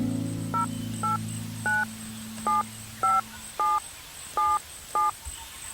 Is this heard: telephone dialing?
yes